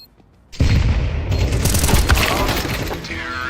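A grenade detonates in a video game firefight after a near-silent moment: a sudden loud crashing blast, then sustained shattering gunfire and debris noise with voices mixed in.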